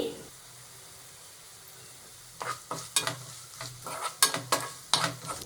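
Peanuts and chana dal fry in oil with turmeric. A quiet sizzle gives way to a run of loud, rhythmic spoon scrapes and clanks as the mixture is stirred in the pan.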